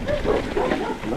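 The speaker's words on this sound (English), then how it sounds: "Los guard dogs." Guard dogs at a mountain-bike park in El Salvador bark in a quick, close flurry of yips and woofs, with faint voices mixed in.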